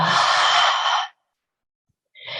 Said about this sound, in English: Hearing the breath as you breathe out.